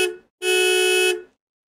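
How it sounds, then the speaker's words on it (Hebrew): A car horn sounds loud and close: a quick short toot, then one longer steady blast of about a second, with no voices. "זה היה צופר של מכונית."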